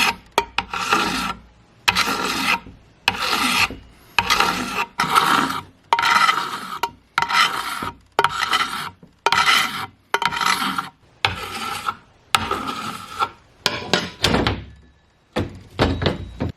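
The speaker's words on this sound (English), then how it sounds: "I'm going to file down some of this just to see if I can get a better foundation" A hand file rasps against a metal chainsaw part in repeated strokes, about a dozen rough scraping passes with short pauses between, close and loud.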